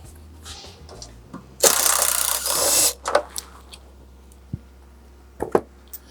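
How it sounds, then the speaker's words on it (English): A ratchet spins bolts out of a Pro R rear exhaust cover in one loud, close burst of clicking, followed by a few scattered metallic taps. "Grab our tool, take these bolts out here,"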